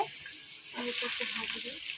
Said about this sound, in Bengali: আলুটা একটু লাল লাল করে ভাজা হবে